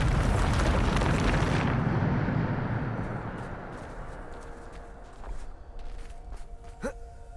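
Bombarda explosion spell cast in Hogwarts Legacy: a loud, dense blast fills the opening two seconds, then decays into a long rumbling tail, with small magical chimes and a rising whoosh near the end.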